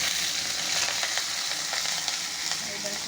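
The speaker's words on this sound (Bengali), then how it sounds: "লঙ্কাটা ভেজে নেবো।" Chillies fry in hot oil with mustard-like radhuni seeds, giving a steady, bright sizzle and crackle close by that runs without pause.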